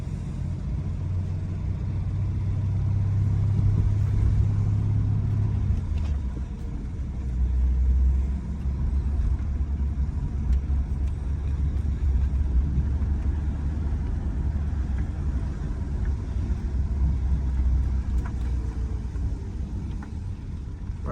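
A Ford EF Falcon rolls along a quiet road with its engine running, a steady low rumble and road noise from inside the car that holds at a constant level throughout.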